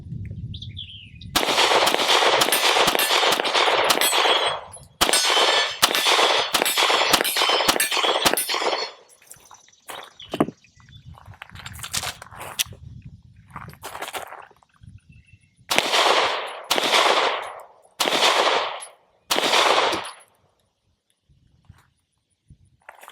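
A Sig P365XL pistol firing rounds in rapid strings of sharp, loud shots, with pauses and a few scattered single shots between the longer bursts.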